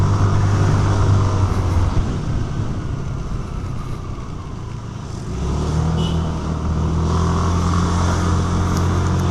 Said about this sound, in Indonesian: motor gue nggak bisa kenceng ini